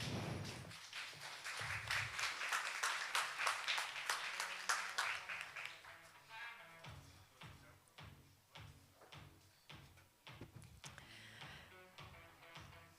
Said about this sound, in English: Round of applause for IDEX.